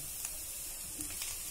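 Curry leaves and cumin seeds sizzling in a hot pan for a Mumbai-style cheese tawa pulao, a steady soft hiss with faint crackles, close and fairly quiet, with no talking.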